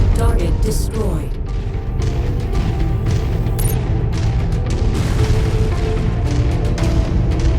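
Booming explosions and rumbling mech combat from MechWarrior 5: Mercenaries as a target is destroyed, a dense, loud, continuous barrage of blasts and mechanical noise throughout, with scattered sharper impacts.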